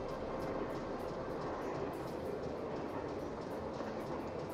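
A moving train in the Nancy Drew game The Last Train to Blue Moon Mountain produces a continuous loud rumble with a steady, rhythmic clickety-clack of wheels over rail joints, heard from aboard with no talking.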